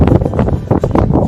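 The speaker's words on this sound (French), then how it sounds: "Il y a beaucoup de vent" Strong gusts at the high-altitude Inca terraces of Tipon, Peru buffet the microphone in loud, rumbling low bursts that rise and fall without a break.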